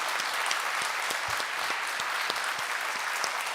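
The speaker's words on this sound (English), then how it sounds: "I would like to give the performers a big hand of applause for helping us today." An audience at a benefit concert for asylum seekers applauds the performers. The clapping is warm and sustained, with distinct individual claps standing out against the steady wash of the crowd.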